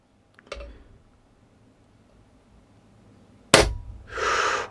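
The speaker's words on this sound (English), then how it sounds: "I'm just going to dry fire this." Dry-fire trigger pull on a KalibrGun Snipe air rifle: a faint click early on, then after a quiet pause a sharp loud snap followed by a short hissing rush of air, close up.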